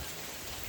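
Rain falling in Guam, a steady, even hiss of drops on surfaces, fairly faint and continuous with no voices over it.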